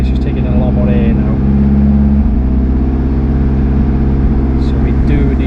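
A Vauxhall Astra VXR fitted with a big turbo idles close by with a loud, steady, even drone, while someone speaks over it.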